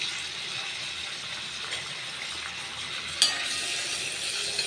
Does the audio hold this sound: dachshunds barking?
no